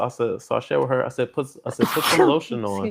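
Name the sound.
sneeze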